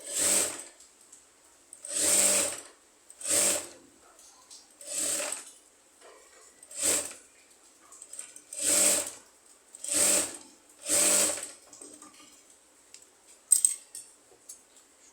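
A sewing machine stitches a dress neckline in eight short bursts of rapid mechanical whirring, each a second or so long, separated by quiet pauses, close and clear with a small click near the end.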